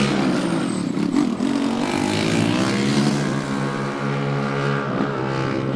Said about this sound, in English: The driver is revving the engine,